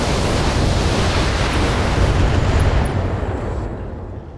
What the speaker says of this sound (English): Firing full complement on it.